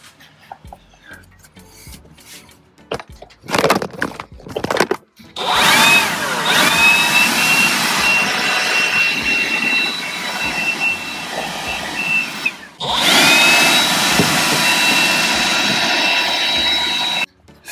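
An air blower roars in the engine bay of a Ford F-350 with a 7.3L V8, clearing out bugs and leaves. It runs in two long, loud, steady blasts after some brief clattering handling noises, with no voices.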